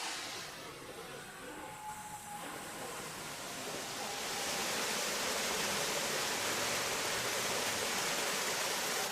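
A waterfall in North Korea roars as a broad, steady rush of falling water, growing louder and fuller after a few seconds and heard from nearby without pause.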